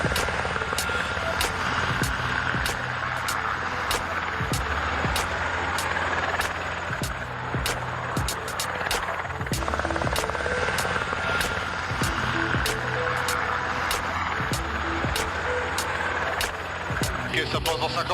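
A Paris firefighters' helicopter comes in to land, its rotor thudding in a fast, steady beat over a loud, continuous engine roar heard up close.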